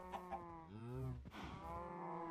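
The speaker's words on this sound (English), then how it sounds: "So we got some cows here." Cows in a Minecraft-style survival game moo in long, drawn-out calls, two or three overlapping lows of varying pitch sounding close and fairly loud with no talk.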